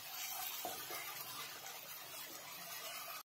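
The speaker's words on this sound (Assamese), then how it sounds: "এইখিনি এতিয়া আকৌ অলপ সময় ভাজি ল'ম।" Masala and tomato paste sizzle steadily in a hot pan, a dense, continuous frying hiss with faint stirring scrapes, close and unbroken until it cuts off abruptly.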